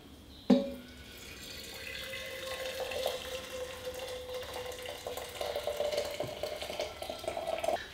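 Water pours into a Bellman CX25P stovetop espresso maker after a sharp clank, a steady close trickle and splash that rises in pitch as the chamber fills.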